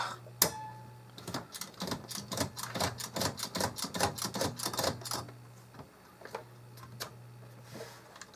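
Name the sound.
typing on a 1970 Remington Streamliner II typewriter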